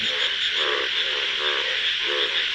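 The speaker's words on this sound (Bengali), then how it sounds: "আর শব্দ ব্যাঙ্গের ডাকাডাকি" Frogs croak in a thick, continuous chorus near a village pond after rain, rhythmic rasping calls layered over a steady, close backdrop.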